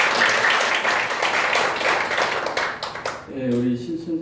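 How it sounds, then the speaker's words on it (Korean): Applause breaks out at a Korean church discussion forum, a dense, steady patter of many hands clapping for several seconds, fading toward the end as a voice starts speaking over it. "간단히 박수 한번 부탁드리겠습니다"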